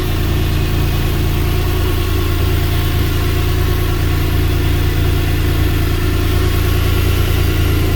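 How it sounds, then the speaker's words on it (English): Subaru EZ30D flat-six engine idling in a VW Vanagon with a five-speed manual and a temporary airbox, a steady, smooth low hum with constant loudness and no revving, close to the engine bay. "It's such a smooth running engine."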